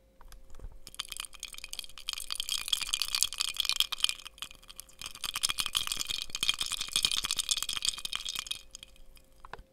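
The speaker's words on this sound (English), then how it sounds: "Did you guess icy water? Because that's what it is." Ice cubes rattle and clink against a glass of water in a continuous, busy jangle, close and fairly quiet, with no voices.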